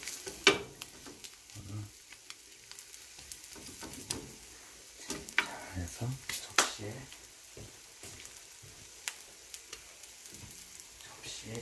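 A cheese rolled egg omelette finishes in a pan with the heat switched off, giving a soft intermittent sizzle and scattered utensil taps while someone talks over it.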